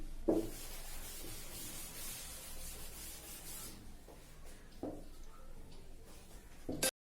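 A board eraser is rubbed across a classroom board in repeated soft, scratchy strokes, steady and close, with a sharper knock or tap near the end; no speech over it.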